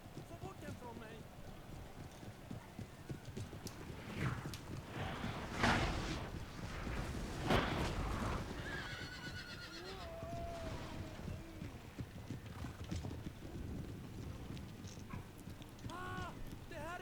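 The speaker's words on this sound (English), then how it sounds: "There's some cavalry charging us early." Cavalry horses charge in the video game Napoleon Total War, with steady hoofbeat clip-clop and battle noise over a windy bed, plus a few distant whinny-like cries and a voice talking over it.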